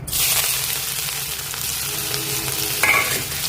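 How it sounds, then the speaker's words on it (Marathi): Finely chopped onion hits hot oil and starts to fry, a sudden bright burst of sizzling that settles into a steady, close crackle with a brief scrape near the end and no speech. "तेल तापलं, त्यात टाकूयात एक कांदा मोठा बारीक कापलेला।"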